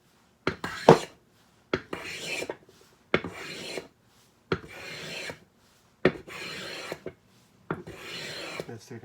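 Coffin smoother hand plane taking fine shavings from an oak board: six or seven separate swishing strokes with short silences between, each opening with a crisp bite and then a rasping drag, close up.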